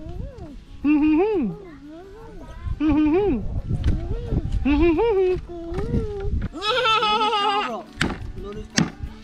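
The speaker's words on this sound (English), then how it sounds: "the goats are enjoying the leaves from the coconuts" Goats bleat several times nearby while feeding on coconut leaves outdoors, wavering calls between talk and scattered chopping and knocking sounds.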